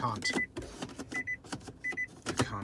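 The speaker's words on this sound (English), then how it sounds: "can hear that I'm trying to engage gear, but it won't accept it" Short electronic warning beeps sound three times in quick groups, with soft mechanical clicks between them, as a Nissan Leaf's gear lever fails to engage while the car is in standby.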